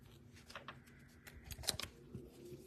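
Scissors cutting planner stickers, a handful of soft, close snips spaced irregularly over a faint, quiet background.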